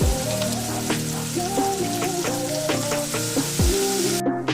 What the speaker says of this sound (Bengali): কষানো পেঁয়াজ আর রসুনের মধ্যে এখানে আমি বিট বাটাটা পুরোটাই দিয়ে দেবো